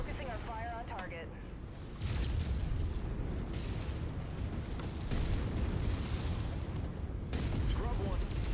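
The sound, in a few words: weapons fire and explosions in video game MechWarrior 5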